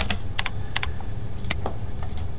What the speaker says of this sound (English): I'm going to type in a name,